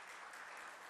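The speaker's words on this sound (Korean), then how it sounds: "우리 박수로 환영하시겠습니다." Church congregation applauding during a Sunday worship service to welcome new members, a steady, fairly soft wash of clapping filling the whole moment with no talk over it.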